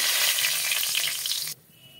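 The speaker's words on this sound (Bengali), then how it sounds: "ফোড়নে দেব গোটা গরম মশলা" Whole garam masala hits hot oil in a pan while cooking desi chicken, a dense, bright sizzle that holds steady, then cuts off abruptly, leaving a faint quiet hiss, close and loud.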